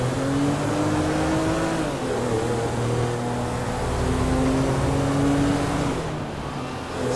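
A car driven in Grand Theft Auto V, a steady engine drone with a rising and falling pitch as it cruises and shifts, fairly loud and continuous, easing off near the end, with no talking.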